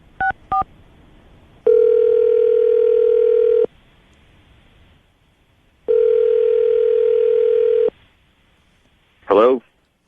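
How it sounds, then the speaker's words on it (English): A telephone being dialed on a radio show before a call: two quick dial beeps, then two long steady ringback tones separated by silence, and a brief burst of a voice answering at the end. "I'm going to dial the phone number right now"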